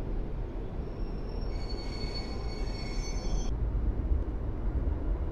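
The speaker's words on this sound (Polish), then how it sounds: "Pociąg żeromski z Olsztyna do Krakowa. ED-160." A passenger train from Olsztyn to Kraków passes Warszawa Powiśle station at close range, a steady heavy roar with a high metallic whine rising over it for a couple of seconds before fading.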